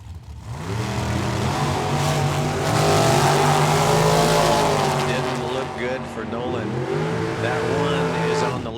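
Dragster roaring down the drag strip in the left-hand lane at a Hangover Nationals race, engine note rising to a loud sustained peak then fading away with the pitch bending down; an announcer talks over it.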